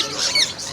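Parrots squawking in a pet bird shop in a Qatar shopping mall, a brief, sharp burst of high squawks heard up close.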